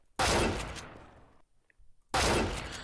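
A pump-action shotgun fires in CS:GO on a practice map, two loud, sharp blasts about two seconds apart, each trailing off into a brief decay, with no voices.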